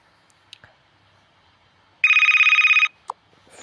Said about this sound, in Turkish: yedek telefonum arıyor